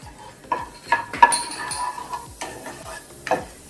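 Whole spices such as black pepper, green cardamom and cumin being sautéed in a pan, with repeated close scraping stirs and light metallic clinks over a soft sizzle.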